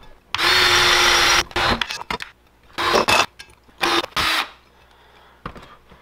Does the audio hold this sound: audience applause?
no